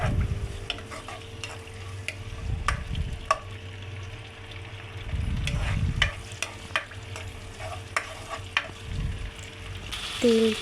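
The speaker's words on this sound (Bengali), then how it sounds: "আর পেঁয়াজটা ভাজা কিছুটা হয়ে গেলে" Onions frying and being stirred in oil for a mixed vegetable bhaji, a steady sizzle broken by repeated scraping stirs of a spatula and occasional clinks against the pan, close and moderately loud with no talking.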